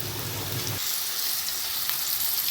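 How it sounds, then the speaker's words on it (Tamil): Onions sauté with ginger garlic paste in a pan for paneer biryani, giving a soft, close sizzle that shifts briefly as the paste goes in and then settles into a quieter hiss. "இஞ்சி பூண்டு பேஸ்ட் போட்டுக்கலாம். போட்டு இதையும் வதக்குங்க."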